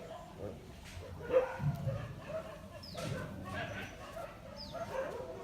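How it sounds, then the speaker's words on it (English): Dogs, including injured and disabled dogs in wheelchairs, yip and whimper in short bursts amid a murmur of people talking nearby, with occasional higher squeaks. "all the beautiful disabled dogs"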